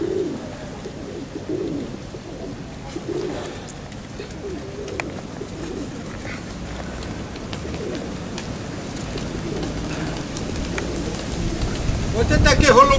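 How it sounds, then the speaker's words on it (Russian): Pigeons coo in soft, repeated low calls nearby, with a faint patter like light rain and some quiet background voices. "Вот это такие голуби."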